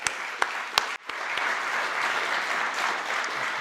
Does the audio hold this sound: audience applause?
yes